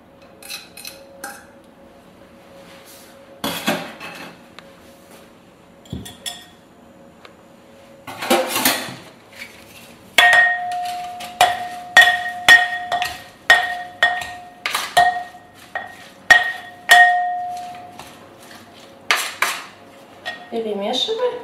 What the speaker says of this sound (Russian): Перемешиваю и добавляю тунец.